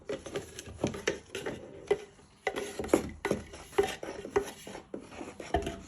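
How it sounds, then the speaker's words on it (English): A spoon stirs icing sugar into water in a bowl, scraping and clinking against the sides in steady uneven strokes, close and fairly quiet, with no talking. "And then you're just going to stir it"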